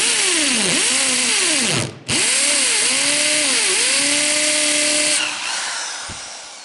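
A power drill spins a step bit through PVC pipe, giving a loud steady whine that bends in pitch as the bit bites, stops briefly for a moment, then runs on before winding down.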